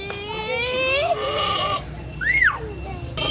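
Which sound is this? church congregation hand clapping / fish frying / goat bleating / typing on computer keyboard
goat bleating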